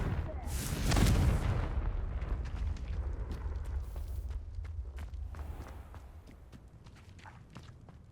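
A Confringo blasting spell in Hogwarts Legacy bursts in a loud, deep explosion that swells and then fades into a long rumbling tail, with scattered footsteps and small clatters after it.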